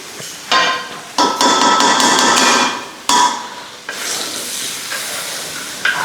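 Minced garlic dropped into a hot pan while making pork roast bursts into a loud, close sizzle, followed by clattering utensil knocks and stirring as the frying hiss carries on. No one talks.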